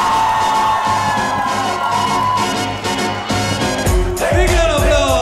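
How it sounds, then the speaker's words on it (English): A stand-up comedy crowd greets a comedian's entrance with loud, continuous cheering and whooping, along with music and a swelling roar that stays dense throughout. "some noise for the very funny, the very famous, the very talented Mr. Kenny Sebastian!"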